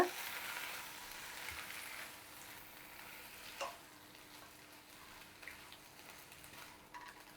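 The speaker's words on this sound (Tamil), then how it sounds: "இப்போ நம்ம செம்பருத்தி சேர்த்துக்கலாம். சேர்த்து நல்லா வதக்கிடுங்க." Hibiscus flowers sauté in a pan for a hibiscus chutney, a soft steady sizzle with occasional faint stirring scrapes, quiet and close with no talking.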